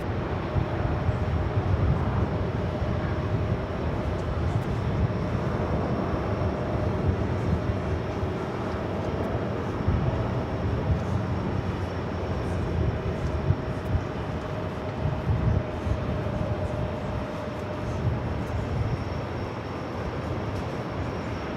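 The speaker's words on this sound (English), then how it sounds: "We got that all Dreamliner now taking off" A Boeing 787 Dreamliner takes off from runway 13 right at New York JFK on a windy day, a loud, steady jet roar holding for the whole stretch with broadband rumble and no pause.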